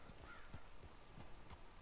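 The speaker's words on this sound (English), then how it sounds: "on the horse we go." Horse hooves clip-clop in Red Dead Redemption 2 as the horse trots in a steady rhythm of quick beats, heard fairly faintly and alone.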